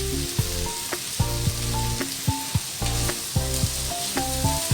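Potato and green pea curry, just dusted with garam masala, is stirred in a pan, with a soft sizzle under repeated scraping strokes of a spoon against the metal and a low steady hum throughout.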